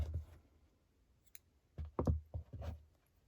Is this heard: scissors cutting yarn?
yes